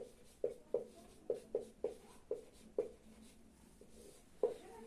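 Pen writing notes on paper during a history lesson, a series of about ten distinct scratchy strokes in an uneven rhythm, close and clear with no speech.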